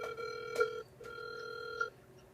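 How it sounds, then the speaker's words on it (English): A telephone ringing in two electronic tone bursts, each under a second long and separated by a short gap, clear and steady against a faint background hiss. "Phone ringing."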